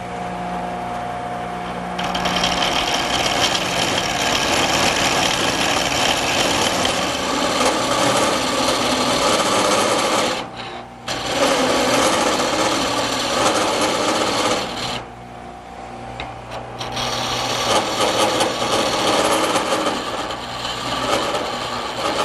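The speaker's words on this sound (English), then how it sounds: "use a gouge on the tool rest, and up here at this point I want to just make it round" A wood lathe spins a table leg blank while a gouge resting on the tool rest cuts it round, giving a loud, steady, continuous whir and scraping rasp with two brief drops in level partway through, and no voices.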